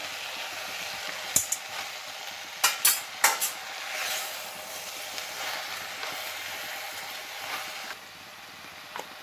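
Breadfruit pieces are stirred into softened tomato in a frying pan, with a few sharp clanks of a spoon against the pan over a soft, quiet sizzle, then a gentler stretch of frying.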